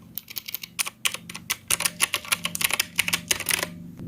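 Rapid, uneven bursts of clicky keystrokes come from a Redragon K552 mechanical keyboard with blue switches, typed up close with no talking.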